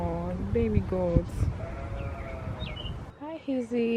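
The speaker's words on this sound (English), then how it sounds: "Oh, baby goats." Baby goats on a farm bleat several times in short wavering cries, close by, with a voice talking softly between and over them.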